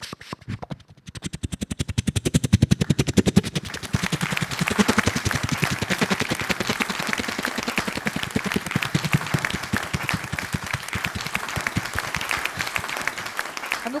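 A voice imitates a helicopter flying overhead. Rapid, evenly spaced chopping pulses start softer and then hold steady and fairly loud for about fourteen seconds.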